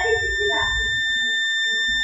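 An HP gaming laptop under motherboard repair emits a steady, continuous high-pitched beep at constant pitch throughout, with a voice talking faintly underneath.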